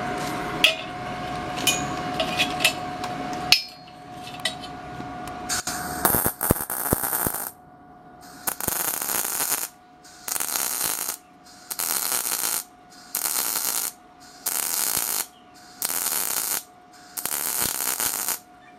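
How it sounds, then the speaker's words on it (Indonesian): A REDBO 120A MIG welder lays full welds in short bursts of loud, close crackling sizzle, about seven evenly spaced spurts separated by brief pauses, after some earlier light clicking and a steady hum. "Lalu kita akan mengelas full."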